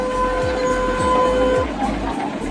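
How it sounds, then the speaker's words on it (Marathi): A children's toy train ride at a Ganesh festival fair in Badlapur runs with a steady mechanical rumble and a repeating rhythmic chug, amid a sustained tonal hum and general fairground noise. "मुलांची झुकझुक गाडी."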